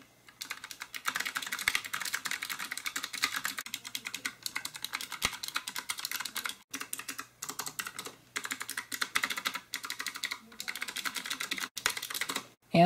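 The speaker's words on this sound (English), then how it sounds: "So here's a quick typing test in terms of the sound as we click away." Rapid clacky keystrokes on a RisoPhy 60% RGB low profile wireless mechanical keyboard, a dense steady typing patter with brief pauses, close and fairly quiet.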